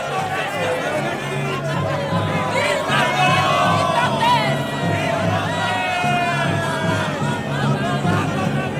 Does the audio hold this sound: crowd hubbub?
yes